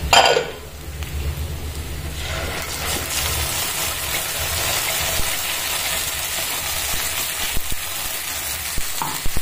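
Loud, steady sizzling of food frying in a pan, with a brief burst of hiss at the start as spice paste goes in, followed by continuous crackle and occasional stirring clicks.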